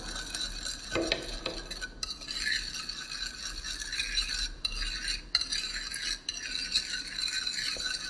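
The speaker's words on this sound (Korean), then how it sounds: "이게 굴러다니는 소리가, 이 설탕 소리가 들리지 않을 때까지 잘 저어서 감칠맛 나는 초간장을 만들어주고요" A spoon stirs sugar granules into soy sauce for a dipping sauce, making soft, continuous scraping and gritty rolling sounds with light clinks against the bowl, close and fairly quiet.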